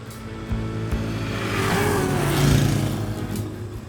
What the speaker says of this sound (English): Semi-trucks whizzed past.